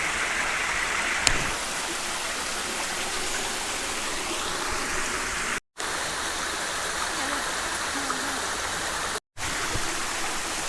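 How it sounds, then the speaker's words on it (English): Waterfall at a wild camping spot roaring steadily as a dense, unbroken wash of rushing water, loud and close, continuing alone without pause. "So I'll give you a quick look at the waterfall."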